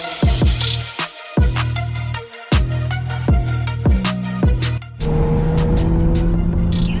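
A 2020 Toyota Supra GR accelerates hard, its engine note rising and falling through repeated quick gear changes, with exhaust pops, then settling into a steady, loud cruising drone near the end.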